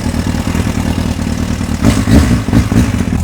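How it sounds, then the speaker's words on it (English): A 1991 Honda CBR 600F (PC25) four-cylinder with an aftermarket Remus exhaust runs near and loud, its uneven engine note carrying a clattering timing chain rattle from a worn tensioner, with a few brief revs. "That's what I've meant with the timing chain rattle from the tensioning device inside the engine"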